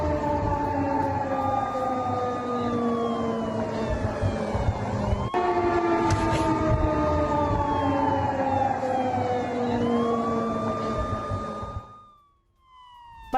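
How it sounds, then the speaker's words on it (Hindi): An air raid alert siren wails in Poland, its tone rising and falling in long sweeps with overlapping layers. The steady, loud sound cuts off abruptly near the end. "एयर रेड अलर्ट सायरन की आवाज़ें सुनाई दी जा रही हैं।"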